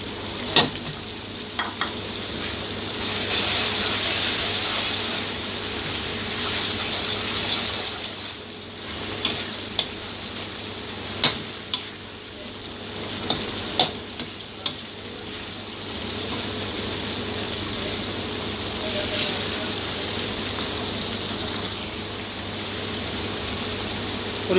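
Chopped capsicum frying with chicken chili in a pan, a steady loud sizzle with scraping and stirring clatter and occasional sharp utensil knocks against the pan, continuous throughout without talk.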